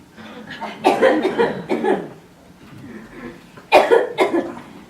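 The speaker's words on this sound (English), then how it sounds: "Wow, no, I'm coughing." A person coughs repeatedly up close, two clusters of harsh, rasping coughs separated by a brief quieter pause.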